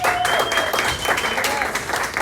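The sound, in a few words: applause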